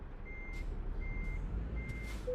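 Truck reversing alarm in Euro Truck Simulator 2: three evenly spaced, steady electronic beeps sound over a low, constant engine rumble.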